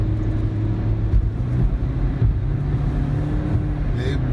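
A 2019 Toyota Prius AWD pulls hard up a short highway on-ramp, its steady, fairly loud engine and road drone rising with speed, with a little talk over it.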